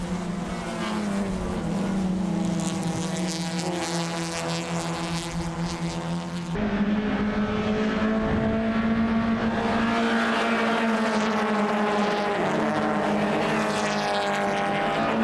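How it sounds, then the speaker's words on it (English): Race cars at a WA Sporting Car Club season final run a circuit with a loud, continuous engine drone whose pitch holds steady then shifts as the cars brake into a turn, with no voices present. "As Sheriff now moves out to 2 car lengths over Rinaldi, who closes up big time as they hit the brakes into turn number 4"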